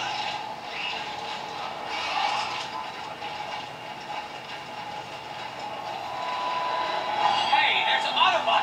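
A train rumbles along steadily in the Transformers War for Cybertron video game, a continuous mechanical hum and clatter that swells slightly toward the end, with no speech over it.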